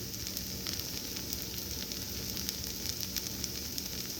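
Rava dosa batter from an instant mix sizzles steadily on a Lodge cast iron griddle over an electric burner, a dense, even hiss of frying with faint crackles, close and continuous throughout.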